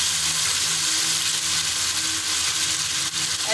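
Meat frying in a pan for Peshawri namkeen gosht: a steady, dense sizzle with a faint hum beneath, continuous and close throughout.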